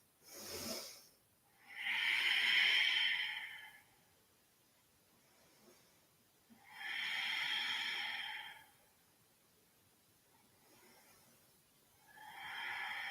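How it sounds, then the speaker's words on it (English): Slow, deep breathing during a yoga stretch: three long airy exhalations, each lasting about two seconds with pauses between, close and fairly soft, with no talking. "And we breathe."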